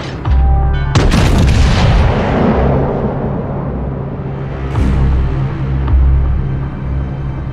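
Heavy naval gunfire from the Tirpitz battleship in a naval combat game: loud booming salvos with long rolling decay, one large blast near the start and further thuds and a second salvo later, with no talking.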